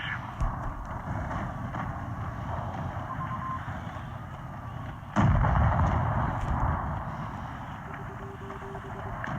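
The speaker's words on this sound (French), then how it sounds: "Le KV2 qui tire." A KV-2 tank in World of Tanks Blitz fires one heavy, booming shot midway, with a low rumble trailing after it over steady engine and battle drone.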